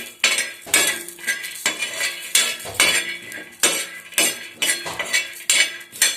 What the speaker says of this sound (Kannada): ಒಂದೇ ಸ್ಪೂನಷ್ಟು ಶೇಂಗಾವನ್ನು ಅದೇ ತವಾದಲ್ಲೇ ಏನು ಮಾಡ್ತಾ ಇದ್ದೀನಿ ಹುರ್ಕೋತಾ ಇದ್ದೀನಿ